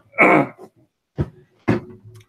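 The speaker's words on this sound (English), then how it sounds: "I need to blow my nose." Someone blows their nose three times, a long loud honk followed by two shorter, fainter blows, close up and alone.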